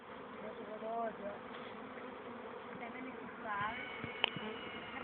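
Bees buzz in a dense, continuous drone, with individual insects whining closer now and then and a brief sharp click near the end.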